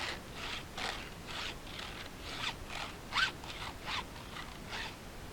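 Stihl deep round file sharpening a chainsaw chain tooth through a 2-in-1 filing guide, about nine steady rasping strokes in an even rhythm, close and moderately loud with no talking.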